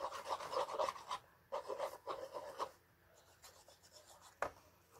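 Glue being spread by hand while assembling a scrapbooking candle box, heard as close, soft rubbing and scraping strokes in short bursts with brief pauses between them.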